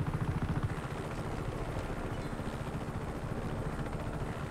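Helicopter flying in the video game Just Cause 3, a steady loud rotor drone with rhythmic low chopping that stays constant throughout, with no talk over it.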